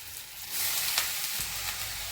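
Washed safflower greens tipped into a hot pan, giving a steady, close sizzle and frying hiss that swells as they hit the oil, with faint stirring and no voices.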